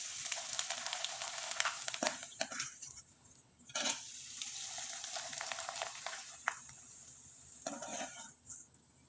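Rice flour pitha fries in hot oil with a steady broadband sizzle, broken by several sharp bursts of louder crackling and spatter as batter hits the oil, plus occasional utensil scrapes.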